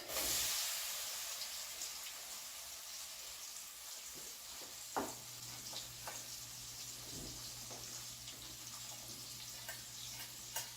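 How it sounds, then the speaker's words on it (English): Onions sizzling in a soup pot for a creamy golden mushroom soup, a steady close frying hiss with a few soft clicks and pops throughout, no talking. "I'm going to start off by putting some onions in the pan, in the pot"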